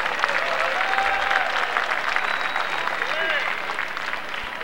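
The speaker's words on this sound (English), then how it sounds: "Ladies and gentlemen, let's have a nice round of applause." A boxing crowd at an amphitheatre event in West Palm Beach, Florida, claps in a sustained, moderately loud round of applause, with an announcer's voice carrying over it.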